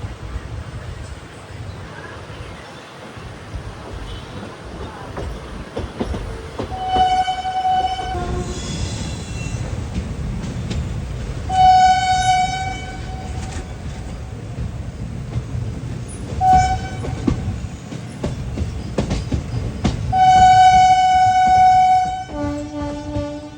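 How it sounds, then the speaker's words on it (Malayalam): The Amritha Express rumbles along the Rameswaram line after leaving Madurai Junction, its loud horn sounding in several blasts over the steady rolling of the wagons, with faint speech in the background. "അമൃത എക്സ്പ്രസ് മധുരൈ ജംഗ്ഷനിൽ നിന്നും രാമേശ്വരം ലൈനിലേക്ക് കണ്ട് ലെഫ്റ്റ് എടുത്ത് തിരിഞ്ഞുകൊണ്ടിരിക്കുകയാണ്"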